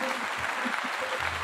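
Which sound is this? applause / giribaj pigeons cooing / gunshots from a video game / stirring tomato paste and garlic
applause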